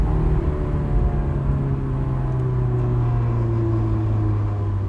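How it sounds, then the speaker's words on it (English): Clutch buzz from a 2005 Honda S2000 AP1 while driving, a steady loud drone and hum of the drivetrain throughout, without talking. "There's that clutch buzz."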